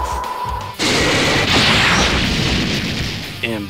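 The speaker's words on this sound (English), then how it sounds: "Special beam cannon! Take this!" Special Beam Cannon energy blast from the Dragon Ball Z: Burst Limit fighting game, a sudden loud roaring burst that sustains as a dense rushing blast for several seconds, ending with a brief sharp hit.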